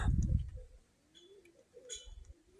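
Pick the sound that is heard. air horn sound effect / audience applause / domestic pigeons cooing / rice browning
domestic pigeons cooing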